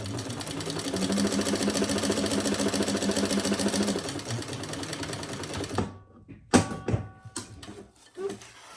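A sewing machine bastes the top of a leather crossbody bag closed, a fast steady stitching whir for about six seconds that stops, followed by scattered handling knocks.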